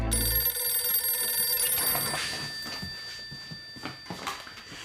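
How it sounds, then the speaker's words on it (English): An old-style telephone bell rings loudly in a quiet room, a sustained metallic trill that cuts off after a couple of seconds, followed by faint handling noises. "That's when the phone began to ring, like an angry alarm clock way too early in the morning."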